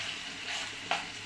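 Roasted cumin powder goes into sizzling chicken masala for a shahi chicken rezala, a steady faint frying hiss with a brief louder sizzle burst near the end.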